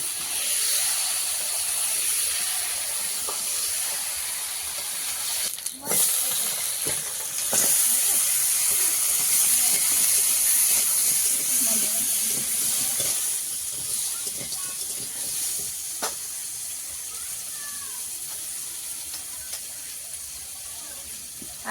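A pressure cooker cooking meat curry gives off a loud, continuous, close steam hiss with a bright high edge, steady for the whole stretch, with a few faint knocks and background sounds underneath.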